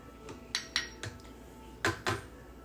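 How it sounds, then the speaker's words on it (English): A measuring scoop is set back into a sugar container while making a cake, giving a few light clinks and taps, two close together early and two more a moment later, with no talk. "And putting the scoop back into, The sugar."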